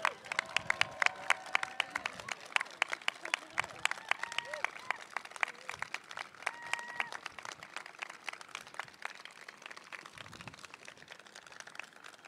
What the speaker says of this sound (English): let's have a round of applause for all prize recipients